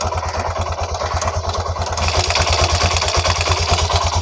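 A Bajaj CNG auto-rickshaw engine idles up close with a fast, even chugging pulse and a light metallic tappet ticking and clatter running through it, with no talking.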